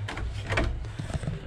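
A hotel room door is handled without opening, giving faint, close rattles and soft clicks of the lock and handle over a low background hum.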